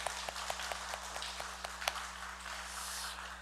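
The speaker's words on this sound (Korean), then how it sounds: "하나님께 영광의 박수 오겠습니다" Scattered hand claps and light applause from a church congregation during a Sunday worship service, faint and fairly distant, with a steady low hum underneath.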